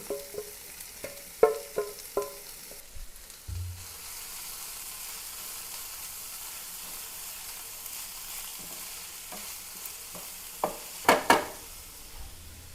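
Chopped banana blossom from a small plantain sautés in a pan, sending up a steady frying hiss. Clusters of spatula scrapes and clinks come early and again near the end, with a quieter stretch between.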